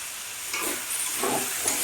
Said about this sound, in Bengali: আবার একটু আমি নেড়ে নিলাম।